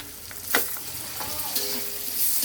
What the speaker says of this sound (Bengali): এবার মশলাগুলো ভালোভাবে একটু কষিয়ে নেব